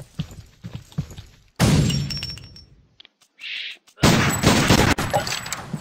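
Pistol gunfire in the Pixel Fury video game: a few sharp, loud shots and bursts with crashing, glassy impacts between short gaps of near silence.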